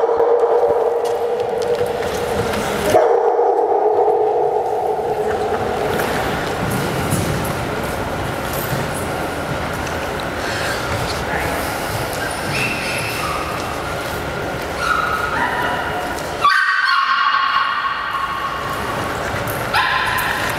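A dog barks and whimpers repeatedly at a dog handling workshop in Ireland, the yips and whines running nearly continuously over a dense, steady background for about twenty seconds, with brief quieter gaps.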